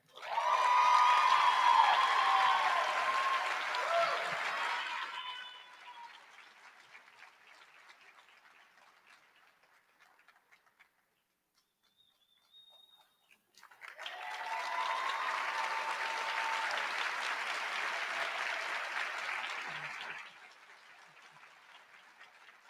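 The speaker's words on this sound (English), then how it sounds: "Maybe one more round of applause for the class of 2024." Audience applause at a white coat ceremony for a graduating class of 2024 comes in two sustained bursts, each several seconds long, with a quiet gap between them.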